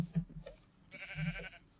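Sheep in the video game Minecraft bleat in two short, close calls separated by a brief pause, fairly quiet and alone without talk.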